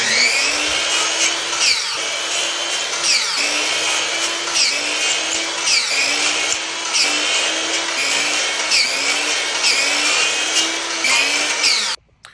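A miter saw cuts pallet wood strips to length against a stop block for coasters, making a loud, close, repeated cycle of whining blade passes roughly every second, each with a rising pitch, until it stops abruptly at the end.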